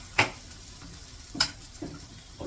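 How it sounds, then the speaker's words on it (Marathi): Oil poured around the edge of a coriander flatbread (dhapate) sizzles in a hot pan, with a few sharp crackling spurts and quieter frying hiss between them, heard up close and alone. "त्यावर टाकलाय थोडस कडेने तेल फिरवायचे आता"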